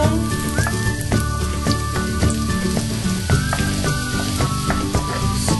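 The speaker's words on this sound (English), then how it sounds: "When the oil is warm, we add the onion." Onion sizzles steadily in hot olive oil in a frying pan, a dense, even crackle and hiss close up, with faint clinks and scrapes over it and no one talking.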